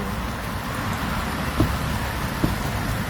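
Steady rain falls outdoors around a leaking parasol, a constant close hiss of drops with two soft knocks partway through and no voices.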